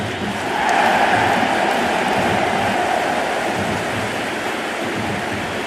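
A large stadium crowd at a cricket semi-final between India and England in the Cricket 26 video game gives off a dense, steady roar, loud and continuous throughout.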